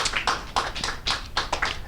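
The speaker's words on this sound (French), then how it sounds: "Est-ce qu'on peut acclamer pour les rois des rois?" A church congregation applauds during a French-language worship sermon, a steady burst of many hands clapping close by with uneven rhythmic peaks, with no talk over it.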